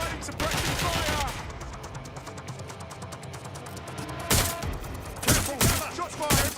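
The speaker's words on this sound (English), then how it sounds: "Providing suppressing fire." Suppressing fire in the game Watch Dogs: Legion: rapid, continuous automatic gunfire with louder bursts near the end, and voices talking underneath.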